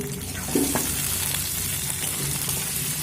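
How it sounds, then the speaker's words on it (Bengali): Diced onions fry in oil over a low flame, a steady soft sizzle with light stirring scrapes and a few small clinks near the start, continuous and close with no voices. "পেঁয়াজ দিয়ে আমি এক মিনিট লো ফ্লেমে ভেজে নিয়েছি"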